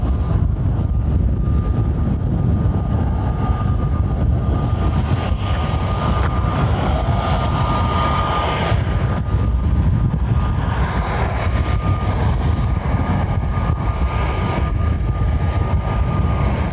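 A jet airliner taxiing at Lanzarote Airport, heard as a steady, loud engine roar and whine that holds evenly throughout with no pauses or voices.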